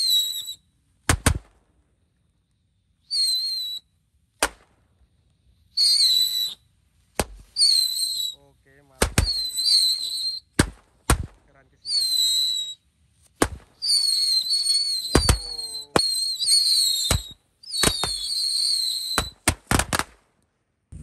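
Mercon Basoka Roman candle fireworks fire in a string of sharp launch bangs, each followed by a shrill rising whistle, spaced irregularly over about twenty seconds, loud and close with quiet gaps.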